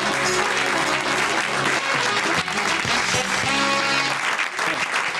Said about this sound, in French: On applaudit Clarence Jacquard.